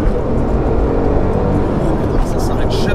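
A Porsche 997 GT2 sports car under hard acceleration, heard from inside as a loud, steady engine and road roar with little variation, while occupants talk over it.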